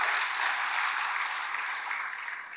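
A church congregation applauds steadily, a dense wash of clapping hands that holds for a few seconds at moderate level with no voices over it.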